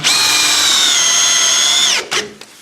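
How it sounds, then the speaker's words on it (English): A power drill whines steadily at high speed, driving screws into wooden battening for a TV media wall, then winds down and gives a couple of short bursts. It is loud and close, with no voices. "So we can now screw into the ends"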